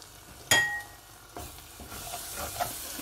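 Spice paste for a ridge gourd curry fries and gets stirred in a pan, with a sharp metallic clank of the spoon, then scraping stirs over a soft continuous sizzle, close and fairly quiet.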